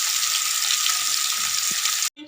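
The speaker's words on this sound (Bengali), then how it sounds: "মাছটা ভেজে নেবো" Close, loud, continuous sizzle of amudi fish frying in oil, a dense crackling hiss that cuts off abruptly near the end.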